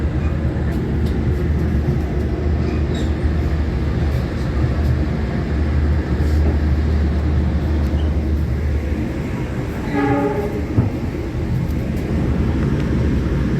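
The KA Argo Bromo Anggrek passenger train rolls along the rails with a steady, loud, close rumble, and a brief tonal squeal rises near the end.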